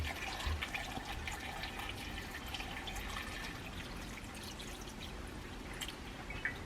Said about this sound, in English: I'm just gonna add enough water